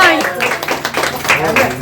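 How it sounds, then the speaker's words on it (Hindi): Residents and guests at an old age home event clap, a dense patter of hands at moderate volume, with voices mixed in beneath the applause. "फिर से तालियां"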